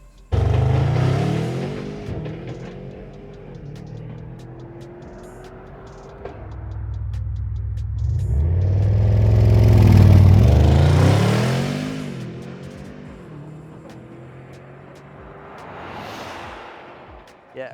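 Car fitted with a modified air intake accelerating hard from 0 to 60, engine revving up in loud surges through gear changes, rising and falling in waves, with a final burst near the end.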